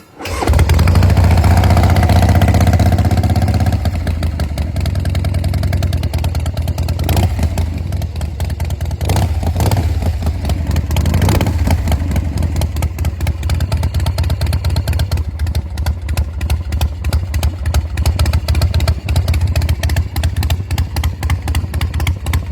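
Cold 1985 Harley-Davidson Softail FXST V-twin with a new S&S carburetor, idling loud and close on choke: an opening burst, then a steady, rough, lumpy rumble with clattering mechanical noise, alone without voices.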